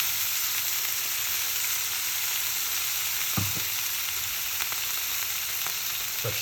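Garlic, red onion and tomato frying in light spray oil, a loud, even hiss of sizzling close up with a couple of soft utensil knocks, no voices.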